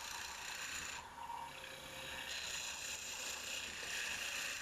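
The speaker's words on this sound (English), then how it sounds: "I go further with a small gouge to refine the surface of the woodwork" A small gouge refining the surface of wood spinning on a wood lathe, a continuous faint rasping scrape with slight shifts in pressure and tone throughout.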